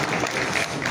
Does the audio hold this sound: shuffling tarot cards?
no